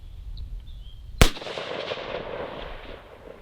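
A single sharp, loud gunshot cracks from a 10.5-inch AR pistol fired at a 400-yard target outdoors, with a low rumbling echo trailing off afterward and no talking.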